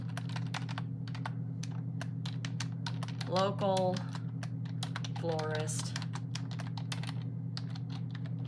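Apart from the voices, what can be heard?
typing on a computer keyboard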